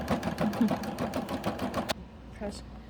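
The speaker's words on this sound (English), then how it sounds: "And now we just watch it sew." A Quantum XL-100 embroidery machine stitching in a rapid, steady mechanical rhythm of needle strokes that stops abruptly near the two-second mark, followed by quieter handling sounds, with a person speaking over it.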